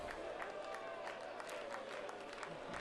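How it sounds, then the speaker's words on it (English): Travelling football supporters at Knight Stadium applaud a substitution during a 2010 Victorian Premier League match between Melbourne Knights and South Melbourne, producing a steady, distant wash of crowd clapping that holds evenly throughout. "To the warm applause of the travelling contingent"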